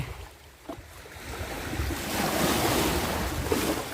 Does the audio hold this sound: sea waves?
yes